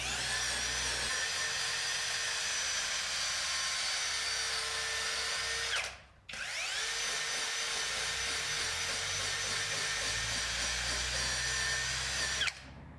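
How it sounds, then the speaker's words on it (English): Cordless drill fitted with a bristle brush attachment scrubbing continuously at high speed, a steady whirring whine that stops briefly midway, then starts up again and runs on. "this drill brush set does the work for you"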